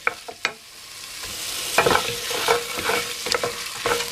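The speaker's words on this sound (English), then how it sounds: "I'm going to fry them for 2 minutes or thereabouts until the okra comes to the consistency" Okra and ogbono with fresh pepper fry in a pot for Nigerian okra soup, sizzling steadily while a spoon stirs and scrapes close by in several short bursts.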